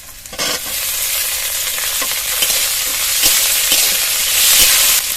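Spice paste with chopped tomatoes, coriander stems and cashews frying in a pan, a steady loud sizzle broken by repeated scraping stirs of a spoon, with no voices.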